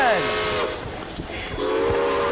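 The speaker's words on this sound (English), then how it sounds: "Let's get ourselves on board the train. Steam energy in action." A steam train whistle blows in two loud blasts, separated by a short gap filled with hissing and rumbling.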